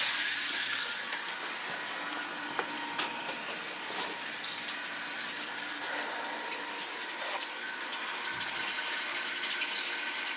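Water purges through a crusty, stuck taco circulator shutoff on cellar heating pipes, a steady rushing hiss that stays even throughout with faint occasional clicks and no voices.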